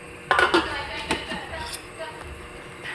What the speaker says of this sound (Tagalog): Takpan na ulit natin.